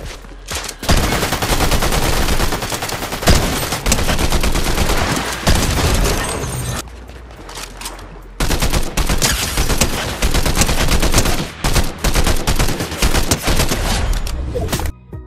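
Fortnite gunshots, loud close automatic fire in long dense volleys with a brief lull in the middle, then more sustained shooting.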